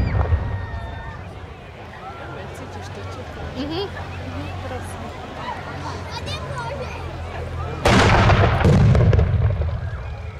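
Scattered distant shots crack over an open field at a battle reenactment with people talking, then a loud nearby burst of gunfire near the end.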